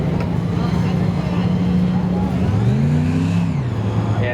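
A red Chevy truck from Arkansas at a Seekonk Speedway spectator drag race gives off a loud, sustained engine roar whose pitch climbs and then drops midway, over steady background noise.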